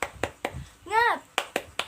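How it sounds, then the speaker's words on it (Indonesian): Schoolchildren in a classroom clap a rhythmic spirit chant, sharp claps in a quick pattern with a voice calling out in the middle before more claps follow. "Kita tepuk semangat dulu ya"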